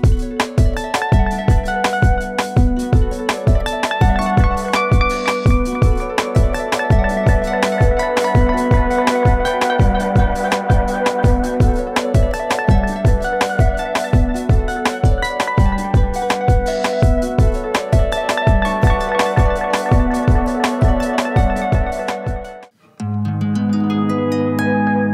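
Electric guitar played through a Universal Audio Galaxy tape echo pedal, a steady rhythmic pattern of repeating echoed notes ringing loud and close for over twenty seconds, ending with a brief decaying tail, no talking.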